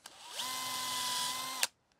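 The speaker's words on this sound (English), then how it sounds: "And then I'm going to drill into the miter" A power drill spins up and whines steadily for over a second, close by, drilling into a PVC miter joint, then cuts off abruptly.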